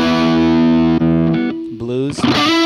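An electric guitar through a Boss GX-700 effects processor's turbo overdrive setting holds a thick, heavily overdriven note, then slides and bends into a few more notes before it trails off.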